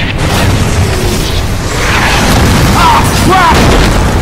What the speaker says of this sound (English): Never figured I'd buy it from our own bombs.